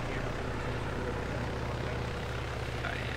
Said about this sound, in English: I can't hear you with the helicopter.